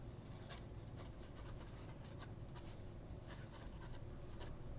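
An Asvine C2000 ebonite fountain pen writing quickly on paper, a close, faint scratchy rasp in rapid irregular strokes, continuous and unaccompanied by talk.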